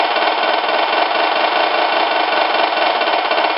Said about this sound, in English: Now I will start the engine again just by touching this throttle without even moving any tires.